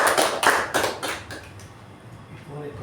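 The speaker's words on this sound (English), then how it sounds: "Let's give a good round of applause for the" A round of clapping for a club secretary at a meeting, loud at first and then thinning into scattered claps over nearly three seconds.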